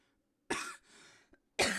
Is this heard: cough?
yes